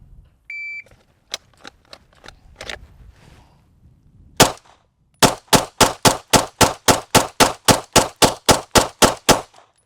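Pistol shots fired at a target on a range, a few scattered sharp reports and then a fast, evenly spaced string of loud cracks emptying a magazine, with a short beep at the start.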